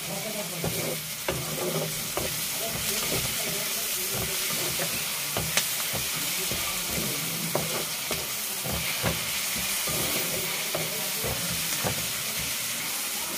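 Hot oil spatters and sizzles steadily in a pan of frying chilli chicken, with close crackling pops and occasional stirring over a constant hiss.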